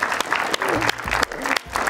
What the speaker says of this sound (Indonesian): Tepuk tangan buat Mbak Nova Dewi.